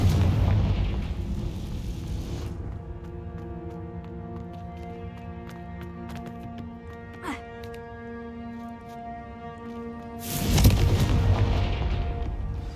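A blasting-spell explosion in the Hogwarts Legacy video game erupts as a loud low boom, then a long rumbling decay under a droning game soundtrack, with a second heavy burst near the end.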